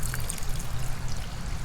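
Water flows through a garden drip tape fitting with a steady gushing, trickling rush, close up and continuous.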